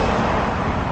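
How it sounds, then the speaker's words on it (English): A steady wash of road traffic, a continuous broadband rumble with no distinct passing vehicles. "You can hear the traffic behind me"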